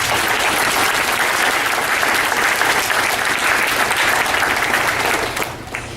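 Audience applause at a junior high school spring concert, a full, steady burst of clapping from a crowd indoors that carries evenly throughout before easing off at the very end.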